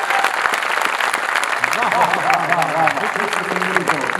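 Audience applause at a Hindi comic poetry gathering (kavi sammelan), a steady wash of clapping with a voice and some tonal sound rising through the middle.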